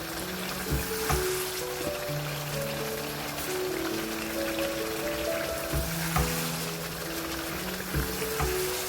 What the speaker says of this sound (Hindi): मसाले के साथ इसको हम भून लेंगे ऐसे